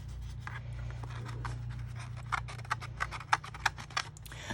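Small scissors snipping around cured resin geode seals, a run of short crisp clicks that grow sharper and louder toward the end over a low steady hum.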